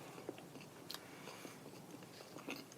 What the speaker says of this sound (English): Let's try the cornbread.